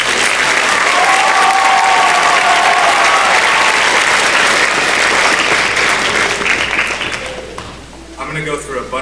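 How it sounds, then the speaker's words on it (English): Loud, full applause from the audience at a school holiday concert for fifth and sixth graders, dense clapping holding steady before tapering off as a voice begins speaking at the end. "So a big round of applause for this."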